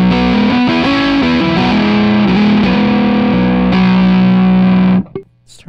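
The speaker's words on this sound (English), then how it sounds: "Okay, I've got the fuzz turned up all the way." Electric guitar through a Dog Tone fuzz pedal with the fuzz fully up: loud, thick, buzzing sustained notes and slides played for about five seconds, then cut off abruptly into a brief squeal and quiet.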